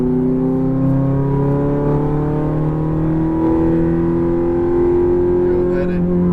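A Ferrari F430 pulls hard on a racetrack, its engine note climbing steadily in pitch as it accelerates, loud and close throughout.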